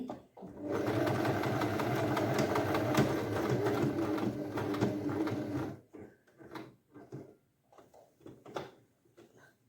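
A sewing machine stitches a silk skirt with a fast, steady mechanical whir for about five seconds, then stops, leaving quiet handling clicks and rustles of fabric.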